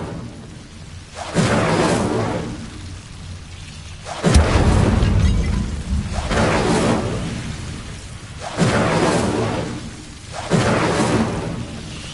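Incendio fire spell cast in Hogwarts Legacy, repeated rumbling whooshing bursts of flame roughly every two to three seconds, full and booming, alone without speech.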